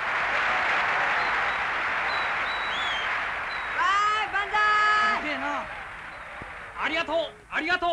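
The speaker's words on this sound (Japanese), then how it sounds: "拍手ご喝采のほどお願い申し上げます" Applause from an audience fills the first few seconds as a steady broad clatter, then voices take over with animated talk while the clapping thins and falls away.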